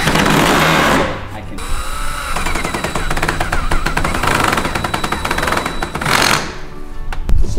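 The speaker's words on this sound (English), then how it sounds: "P2 screws going into the pre-drilled hole" A power drill drives P2 screws into pre-drilled holes while assembling a wooden chicken coop, loud close bursts of whirring motor with brief pauses between runs.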